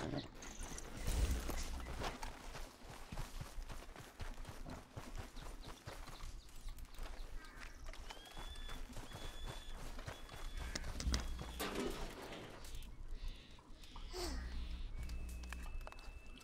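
Horse hooves thud and clop steadily while a rider travels on horseback in Red Dead Redemption 2, a low, quiet running beat under game ambience and brief chimes.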